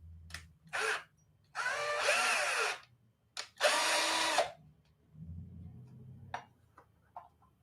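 Several short bursts of a power drill whirring, two longer runs in the middle, separated by pauses with low rumbling and a few clicks.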